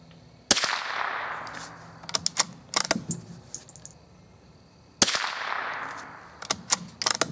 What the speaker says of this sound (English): Here's 4 more shots.